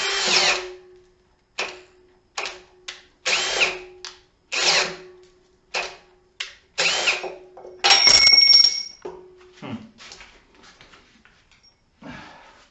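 A cordless drill whines in a series of short bursts, boring through wood with an Irwin Speedbor spade bit, pausing between each run, loud and close.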